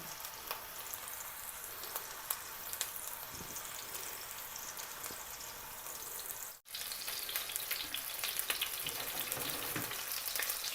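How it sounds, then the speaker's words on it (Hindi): Chicken patties fry in a little oil in a kadhai, giving a steady, close sizzle with crackling pops throughout and a brief break midway. "उसमें थोड़ा सा ऑयल डाल के हम इनको फ्राई कर लेंगे। इस तरह कढ़ाई में इनको रख देंगे।"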